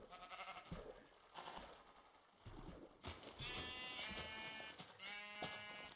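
Sheep bleating in Minecraft during a hardcore survival game, several bleats over busy game sounds and music-like tones, fairly loud and close, no talking.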